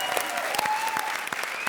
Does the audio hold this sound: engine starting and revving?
no